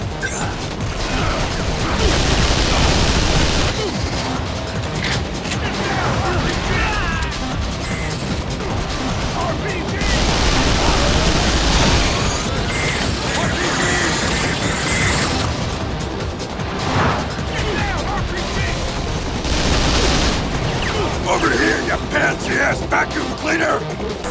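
A fixed turret firing in the Vanquish video game, a continuous heavy barrage of shots, crashes and booms that fills the whole stretch, loud and close, with voices shouting over it.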